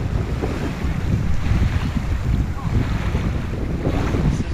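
Riding the Runoff Rapids water ride at Blizzard Beach, a continuous rushing wash of water and wind buffeting close to the microphone, steady and fairly loud throughout.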